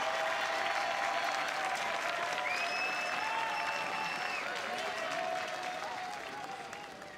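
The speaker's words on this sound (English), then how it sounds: "let's have a round of applause and a hearty huzzah for these fine folk" A crowd at an outdoor jubilee civic gathering applauds in a sustained, even wash of clapping, with faint whistles and calls rising over it before the applause slowly tapers off.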